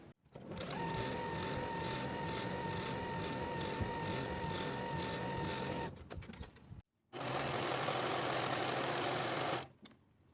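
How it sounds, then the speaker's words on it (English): Sewing machine and serger running in turn while stitching fabric seams at a 3/8 inch allowance, a loud steady whirring buzz for about six seconds, a brief pause, then a second sustained motor run close by. "we're going to sew them together using a 3/8 inch seam allowance, and then we're going to serge"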